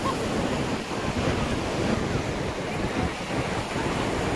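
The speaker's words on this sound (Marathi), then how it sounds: "आनंद घेऊया आपण या लाटांचा." Sea waves surge and wash steadily along the Konkan coast as the water rises, a loud, continuous broadband roar with wind buffeting the microphone throughout.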